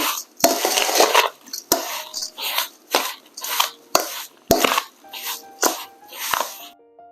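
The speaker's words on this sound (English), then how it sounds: "I'm going to mix it together." Gizzada filling with a tablespoon of vanilla being mixed in a bowl, heard as repeated clinking utensil strokes and scraping in an irregular rhythm, close and fairly clear, with no talking.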